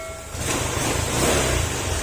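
Motorcycle engine idling steadily even though the key and panel are switched off, a low continuous mid-pitched rumble close by with no voices over it.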